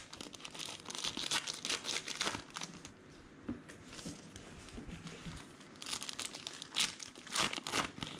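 Trading card packs of 2019 Diamond Kings baseball cards being torn open, with faint, close crinkling and ripping of foil wrappers in repeated bursts and brief pauses.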